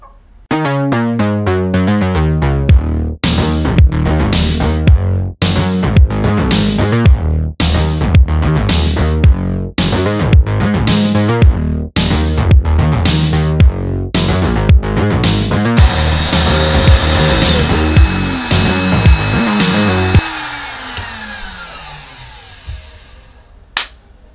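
A CNC router cutting through stacked skateboard veneer to shape donut clocks, a loud steady machine whine broken by rhythmic repeating pulses as the bit travels, ending in a long winding-down hum.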